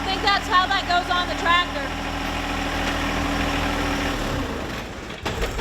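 A farm tractor fitted with front forks idles with a steady low rumble throughout, while people talk over it near the start.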